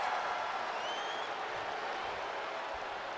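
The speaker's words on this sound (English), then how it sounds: "The crowd going absolutely crazy for the Women's Champion and Amanda Price." A wrestling crowd cheering and roaring steadily for the Women's Champion's entrance, a broad wash of noise with a faint whistle rising through it.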